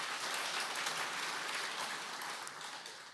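Steady applause from a church congregation, continuous clapping that fades slightly toward the end, with no voices.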